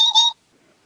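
Someone whistles an imitation of the well-known chickadee call: two quick, clear, high tones in close succession, loud and near, followed by near silence.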